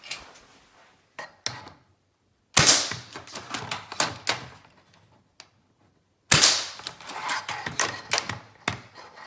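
A spring-powered ASG McMillan M40 airsoft sniper rifle, Sportline version, is fired through a chronograph on a range. Two loud, sharp cracks stand out, each followed by clattering mechanical clicks, with scattered lighter clicks and handling noises between them.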